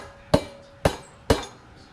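Three sharp metallic hammer knocks on a scrap brass water pressure release valve, evenly spaced and ringing briefly, close and loud with little else around them.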